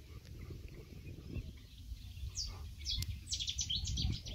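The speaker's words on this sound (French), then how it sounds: "On entend tous les petits oiseaux chanter." Small birds sing and chirp in a natural park wetland at El Fondo, giving bright high twittering phrases that grow busier toward the end, over a steady low outdoor rumble.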